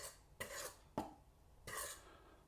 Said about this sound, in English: First thing to do is to mix all of the dry ingredients together.